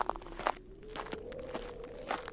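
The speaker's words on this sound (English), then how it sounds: "there was a rushing of wind outside and a noise of footsteps" Footsteps approach outside at night in a spooky folk tale, evenly spaced soft crunching thuds at moderate distance over a low whistling rush of wind.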